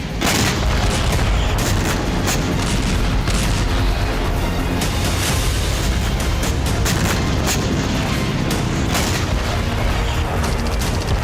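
Explosions from a drone attack on Ukrainian cities including Kyiv: dense, continuous rumbling booms and heavy thuds that overlap without pause, loud and close, with no voices.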